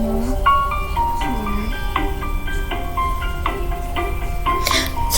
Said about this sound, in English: Sorry guys if y'all could hear that music in the background.